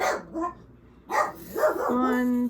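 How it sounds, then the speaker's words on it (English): Pet dogs bark indoors in a few sharp, close yelps, one ending in a drawn-out whine, heard over a brief spoken word. "Sorry about my dogs there. They're barking."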